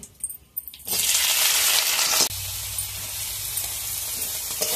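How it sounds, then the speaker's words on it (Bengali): Shrimp tipped into hot oil with black cumin seeds set off a sudden loud sizzle that spits and hisses for over a second, then drops to a steady, softer frying crackle. "কালো জিরাটা হালকা একটু নাড়িয়ে এখন আমি চিংড়ি মাছগুলো ঢেলে দিচ্ছি।"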